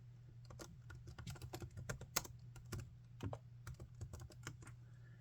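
Rapid, uneven clatter of fingers typing on a computer keyboard, close and fairly quiet over a steady low hum, with no voices.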